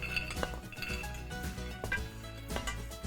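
A metal skillet of toasted pine nuts being moved off a stovetop, with several quiet clinks and clatters of pan against grate and utensils, close but soft in a kitchen with faint background hum.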